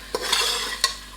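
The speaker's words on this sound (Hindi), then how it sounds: "इसको थोड़ा टमाटर सॉफ्ट होने तक भूनना है" Onions and tomatoes frying in a pan for a cauliflower and mutton curry, a bright sizzle broken by two sharp scrapes of a spoon stirring, close and with no talk.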